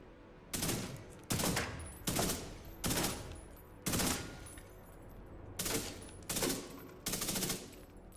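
Rapid bursts of automatic gunfire in The Division 2 crack out in about eight distinct volleys, each a loud clustered rattle, separated by short pauses with a low background hum.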